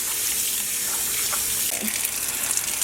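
Tap water running steadily into a sink while hand-dyed sock yarn is rinsed, a constant close hiss of flowing water with faint splashes, no talking.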